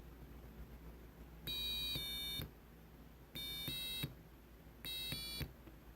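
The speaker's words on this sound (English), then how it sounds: "you can hear the tones associated to each" Electronic beep tones from a circuit lab setup with parallel and series resistors, sounding as three steady, loud, bright tones of about a second each, separated by short pauses, over low background hum.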